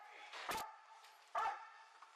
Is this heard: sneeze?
no